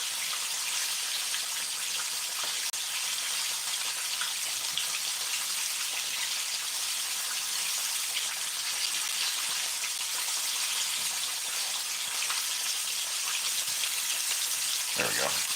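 Chips deep frying in hot oil for an extra crispy fish and chips batch, a dense, steady crackling sizzle that runs unbroken throughout, close and fairly loud, with no speech.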